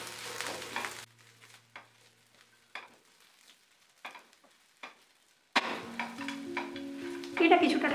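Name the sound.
stirring chilli pakora filling in a pan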